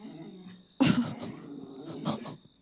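Several dogs indoors in a house, with a low growl followed by sharp bursts of barking and scuffling, fairly close and agitated, with faint background sounds between outbursts.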